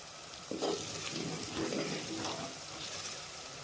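A tempering sizzles gently in a pan while charu is being made, a soft steady frying hiss with faint crackles and occasional stirring sounds, fairly quiet and close.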